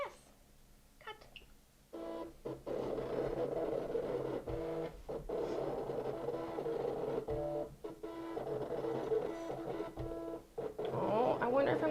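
A Cake Cricut machine cuts the letters of a word from gum paste rolled onto its mat, giving a steady mechanical whir with short pauses and shifts as the blade carriage moves.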